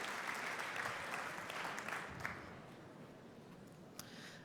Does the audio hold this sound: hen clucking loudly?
no